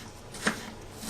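A knife taps twice on a cutting board while shrimp are finely chopped, two short, crisp, close knocks over a quiet background.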